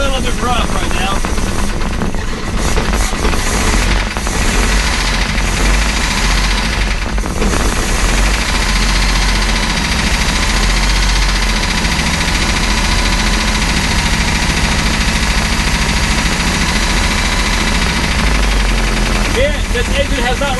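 A starboard 454 boat engine, unrun for ten years, idles loud and close with a rough, uneven knocking rumble that holds steady throughout, while people talk intermittently over it.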